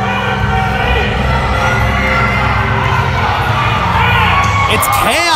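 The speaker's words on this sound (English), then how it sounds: "The crowd is losing their mind for Christina Marie coming in to save Sierra." A wrestling crowd roars and shrieks without letup as a wrestler rushes in for a ring rescue during a women's match, dense and loud with shouts and whistles throughout.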